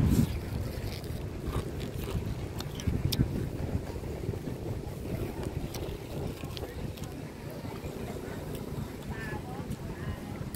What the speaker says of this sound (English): So here's the beach down here.